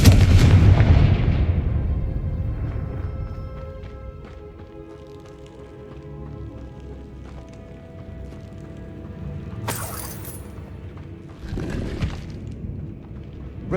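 Confringo fire-blast spell cast in the Hogwarts Legacy game, a heavy booming explosion at the start that rumbles and fades, followed by fainter magical crackles and a couple of sharper bursts later on.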